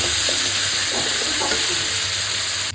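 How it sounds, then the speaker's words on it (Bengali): Dried pomfret fish sautéing in a pan with a little water gives a steady close sizzle and hiss, with faint stirring scrapes throughout. "দিয়ে সমস্ত কিছু একটু হালকা হালকা জল দিয়ে কষাবো।"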